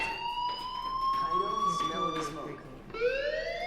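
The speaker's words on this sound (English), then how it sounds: "Hey, do you hear that fire alarm?" A fire alarm rings in the video game Life is Strange, a steady, piercing electronic tone that bends slightly in pitch and runs throughout, with voices speaking over it.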